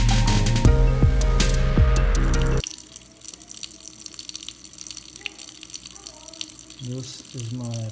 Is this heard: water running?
yes